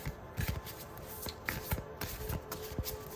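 An oracle card deck is shuffled by hand, a soft papery riffle of quick flicks and taps repeating steadily for a few seconds, close and quiet, with no voices.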